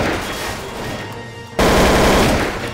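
AK rifle fire in Garry's Mod, loud and sustained, getting louder and denser in the second half as the shots run together.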